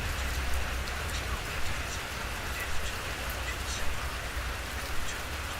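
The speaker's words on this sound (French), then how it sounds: "This is like baby rain." Light rain falls in the Pamir mountains, a soft, steady hiss of drops pattering on surfaces with faint low rumble underneath and occasional slightly louder splashes.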